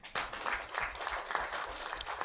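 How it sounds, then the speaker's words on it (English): An audience at a development plan report event in Uganda breaks into dense, steady clapping that fills the clip, close and sustained without pause. "Why are you clapping?"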